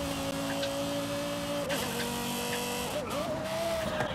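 Lexus LFA engine in Forza Horizon 5 holding a steady high-pitched whine, then blipping through two quick downshifts around the middle and near the end, loud and continuous with no talk.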